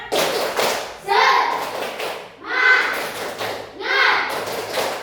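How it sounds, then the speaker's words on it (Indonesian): A classroom of children performs the tepuk semangat clapping chant, with rhythmic bursts of claps and thuds in three rounds alongside loud chanted voices. "Oke, ulang sekali lagi. Tepuk semangat."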